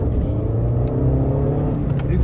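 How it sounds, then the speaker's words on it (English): A 2016 Abarth 595 with 140 brake horsepower accelerates, its engine droning steadily and loudly from inside the car throughout, with a voice talking over it. "Lovely, lovely sound off the engine."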